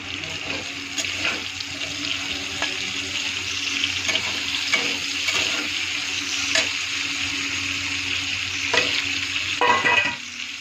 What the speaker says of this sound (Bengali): তেলটা গরম হয়ে গেছে, এখন আমি এর মধ্যে মাছটা ফ্রাই করে নেব।